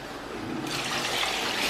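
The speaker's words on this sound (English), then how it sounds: "I need to put in more water, you know, to loosen it up." Water is poured into a thick tomato stew, a rushing, splashing pour that grows louder halfway through and continues steadily to the end, with no talking.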